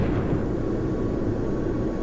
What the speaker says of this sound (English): That, I suspect, is flak coming in from the air defenses at Pope Air Force Base.